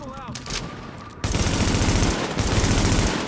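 Heavy automatic gun firing in the video game The Division, kicking in abruptly after a quieter moment with faint game sounds, then a loud, continuous close burst of rapid shots with a short break.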